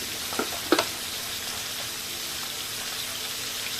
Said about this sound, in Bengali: মশলাগুলো তরকারির সাথে আলুর সাথে ভালো করে মিশিয়ে নিব ভালো করে নাড়াচাড়া দিয়ে কষিয়ে নিব আলুগুলা